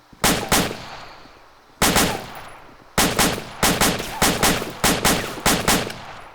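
Rifle fire in the Arma military game, cadence shooting with a few spaced single shots that quicken into a tight, even rhythm of about eight sharp, loud cracks, each with a short decaying echo.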